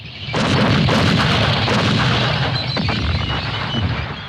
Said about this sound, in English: An artillery barrage opens the attack.